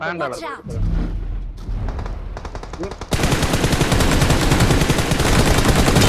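Sustained machine-gun fire in PUBG Mobile, a rapid loud rattle that takes over midway and keeps going, with excited voices talking over the earlier part.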